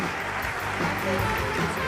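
An award ceremony audience for a youth short-story competition applauds steadily, a broad even wash of clapping that holds at the same level throughout.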